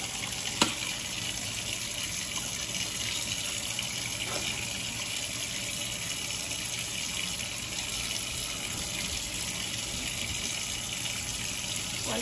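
Kitchen faucet running steadily as turkey wings are rinsed under it, a continuous broadband water rush at even loudness throughout with a faint clink near the start.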